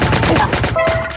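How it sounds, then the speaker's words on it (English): Rapid automatic gunfire in the mobile shooter Pixel Gun 3D, a dense stream of fast repeated shots packed into about a second, loud and continuous over game sounds. "Oh no, someone's shooting at me."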